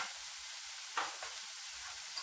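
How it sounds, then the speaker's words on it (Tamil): Onions sautéing in a pan for a tomato and idli-batter paniyaram breakfast, a soft, quiet hiss with a couple of faint stirring scrapes. "வெங்காயம் நல்லா வதங்கிடுச்சு"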